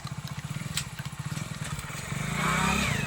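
A motorcycle engine putters in a quick, regular rhythm, close and fairly loud, then swells into a steadier, heavier drone toward the end as it revs.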